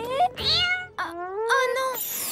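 A cartoon cat in a Polly Pocket animated show gives several stylised, voice-like meows with rising and falling pitch, fairly close and clear, separated by brief pauses.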